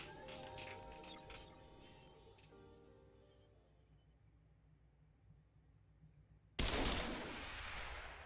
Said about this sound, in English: Oh, a gunshot.